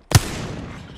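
A single sharp gunshot fires in the Apex Legends ranked arena match, a loud close crack followed by a long fading reverberant tail, with no voices over it.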